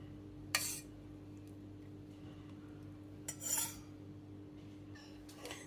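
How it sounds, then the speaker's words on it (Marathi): A spoon scrapes cream off chilled milk in a metal pot, with three short, bright scraping strokes spaced a few seconds apart, close and quiet over a faint background hum. "पहिल्यांदा साय काढून घेते."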